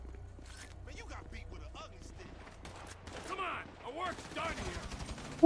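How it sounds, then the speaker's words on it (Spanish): Rapid bursts of gunfire from GTA 5 gameplay crackle in uneven volleys, with someone talking over much of the shooting and a louder hit at the very end. "Balazos, balazos, más balazos."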